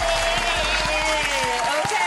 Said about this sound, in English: Get some applause for yourself.